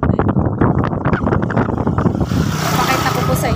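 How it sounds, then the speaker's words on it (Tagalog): Strong wind gusts buffet the microphone outdoors at a seaside spot in Bato-ili, Occidental Mindoro, a loud steady roar with a person talking over it. "Lakas po ng hangin dito."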